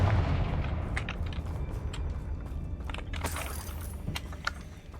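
Spell explosions from the Confringo fire curse in Hogwarts Legacy crackle and burst over a dense, rumbling wash of game noise, with repeated sharp impacts throughout and a brighter crackling surge near the end.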